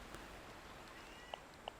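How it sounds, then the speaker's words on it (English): A pet cat gives two short, clear meows close by in a quiet room, spaced a fraction of a second apart near the end of a faint background hum. "My cat was meowing at the roof then."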